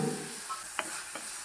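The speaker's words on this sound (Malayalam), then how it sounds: "കഷ്ണങ്ങളൊക്കെ ഇതിലേക്കിട്ട് നന്നായി ഇളക്കി വാട്ടിയെടുക്കണം." Bitter gourd pieces sauté in a pan with green chillies, a soft sizzle under a couple of brief scraping stirs, quiet and close.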